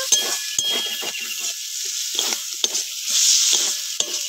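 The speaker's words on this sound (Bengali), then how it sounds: "জিরে বাটা দিয়েছি, এবার একটু নাড়াচাড়া দিয়ে নেব।" Crab curry with ground cumin paste stirred in a pan, a close crackling sizzle with repeated scraping strokes of a spoon against the metal.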